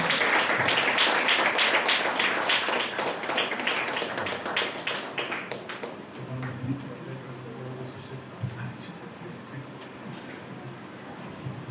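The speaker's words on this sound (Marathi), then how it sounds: "आपण टाळ्या वाजून पास्टरचं स्वागत करूया." A church congregation claps to welcome the pastor: dense, lively applause that fades out after about six seconds, followed by quieter room sound with a low hum.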